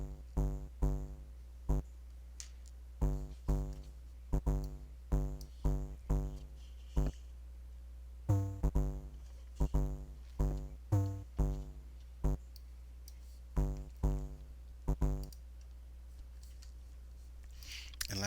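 Chiptune bass from a Sega Master System sound patch, an extra square-wave voice, plays short, evenly spaced plucked notes in a bouncy repeating rhythm, clear and dry with no talking over it.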